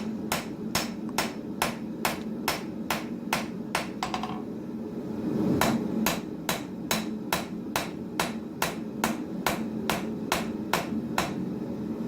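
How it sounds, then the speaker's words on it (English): Steel hammer forging the bevel of a full-tang knife blade on an anvil, struck in a steady rapid series of sharp ringing blows, about two per second, with a brief pause midway and a continuous hum of shop noise underneath. "just want to keep the spine of the blade off of the anvil face and try to focus all of your work on the bevel itself"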